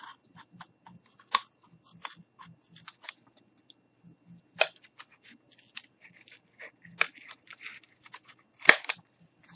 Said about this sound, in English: I'm just going to go ahead and very carefully cut out the inside.